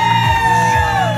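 A small group of people lets out a short, loud collective whoop and yell as a birthday tribute from a live message car in Cangaíba, with steady tonal music underneath.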